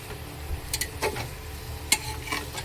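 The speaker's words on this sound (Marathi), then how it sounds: "हलक्या हाताने हलवून घ्यायचं आहे।" Paneer cubes gently stirred through a thick masala in a pan, a low soft sizzle broken by a few light spoon clicks and taps against the pan, with no voices.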